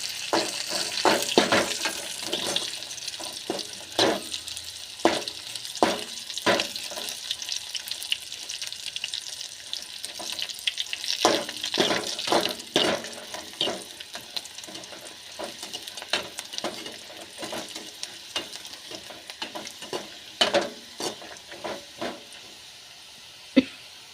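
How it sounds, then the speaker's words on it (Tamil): Dried red chilies, ginger and garlic fry in oil for a Tamil chutney, a close, continuous crackling sizzle with bursts of sharp pops and spatters throughout. "வரமிளகவும் நல்லா பொரிஞ்சிச்சு எண்ணெயில் இஞ்சி பூண்டு நல்லா பொரிஞ்சிச்சு"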